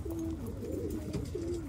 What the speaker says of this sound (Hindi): दाना वाना खिला के कबूतरों को